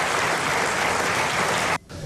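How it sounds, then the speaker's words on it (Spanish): A crowd applauds during a presidential speech, dense and steady clapping at moderate loudness that cuts off abruptly near the end. "Incluido aplausos."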